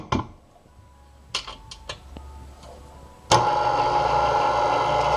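A stand mixer starts up on pizza dough after a few clinks of ingredients going in, then hums and churns in a loud, steady mechanical whir close by.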